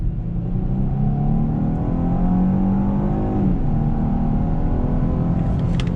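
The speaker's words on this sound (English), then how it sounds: "let's do another acceleration test." A 2021 Genesis G80 with an 8-speed automatic accelerates hard on throttle. Its engine note climbs steadily, then drops with a smooth gearshift around midway and keeps pulling, loud and close with no talk.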